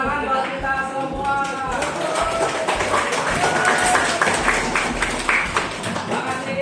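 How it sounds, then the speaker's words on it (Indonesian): A group applauding indoors at a positive-culture school workshop, scattered clapping rising into a fuller burst, with a voice talking over the start. "Tepuk tangan buat kita semua."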